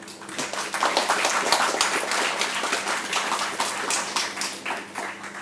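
An audience at a Viksit Bharat YUVA Connect event claps at an institute program, giving a steady, moderately loud patter of many hands that lasts throughout with no speech.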